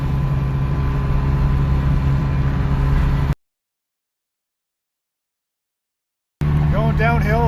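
A two-stroke Subaru 360 coasts downhill at about 60 mph with a steady, droning engine and road roar that runs loud and continuous, broken by a gap of silence, and a voice speaks near the end.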